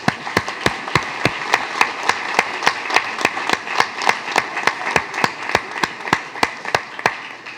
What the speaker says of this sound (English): How about one more big round of applause for our National Merit?